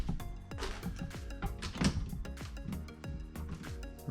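Soft-close kitchen cabinet doors and drawers shutting during a remodel, giving repeated muted thumps and soft knocks spread through a cluttered, busy workshop-like background.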